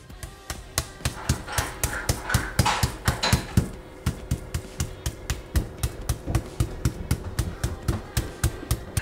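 Butterflied chicken breast pounded with a mallet in a kitchen, a long steady run of close, even thuds with a brief faster flurry partway through, no talking.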